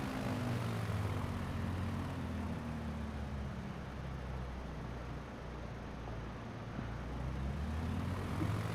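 A video game airplane engine runs at full throttle, heavily loaded while climbing through mountains, making a continuous low, steady propeller drone at modest volume with no voices.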